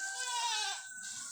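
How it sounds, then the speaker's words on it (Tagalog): A goat bleats once in a single drawn-out, wavering call, fairly close and moderately loud, with a quiet background afterward. "Yung kambing."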